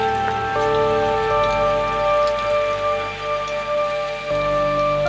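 Heavy rain pours steadily over paddy fields in Dinajpur district, a dense continuous hiss of drops on water and surfaces, loud and close, with faint tonal hum running beneath.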